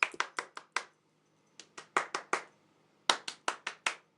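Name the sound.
hands clapping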